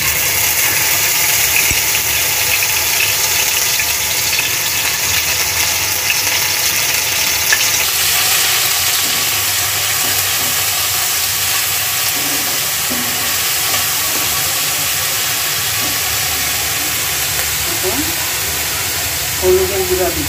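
Fish frying in a pan with chili paste and onion paste added, a dense continuous sizzle throughout, with a few scraping stirs near the end.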